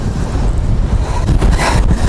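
Strong wind roars steadily across the microphone on a winter beach in Katsiveli, with broadband buffeting gusts and crashing sea waves beneath, loud and continuous with no voices.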